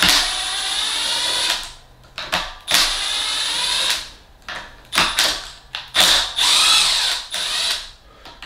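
Buzzy ratcheting while changing the tuners on a Jackson JS22 guitar, in long sustained runs broken by short clicking strokes and brief pauses, loud and close.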